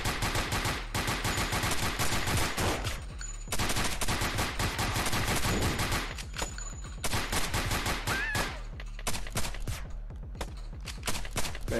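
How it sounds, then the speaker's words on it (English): Rapid automatic gunfire in the VR shooter Crime Cracker, loud and close, with repeated bursts of rattling shots and short gaps, nearly continuous throughout. "Shooting around the corners."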